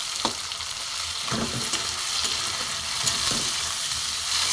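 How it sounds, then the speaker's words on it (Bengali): Onions and tomatoes fry in a pan with a continuous bright sizzle, while a spoon scrapes and stirs in several irregular strokes, close up and without any talking. "টমেটোটা একটু ভালো করে ভেজে নেব।"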